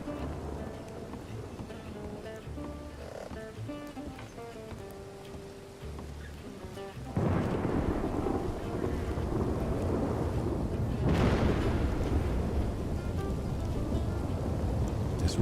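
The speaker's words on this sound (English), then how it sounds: "The rain coming down." Heavy rain and thunder in a video game set in the town of Ansberg. Music plays at first, then a loud, steady downpour takes over, with a deep rolling thunder rumble partway through.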